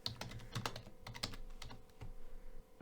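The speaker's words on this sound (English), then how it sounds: "So now let's try to type the git push command" Rapid keystrokes on a computer keyboard while a git push command is entered, an irregular run of sharp, close clicks with a few louder key strikes, heard alone without talk.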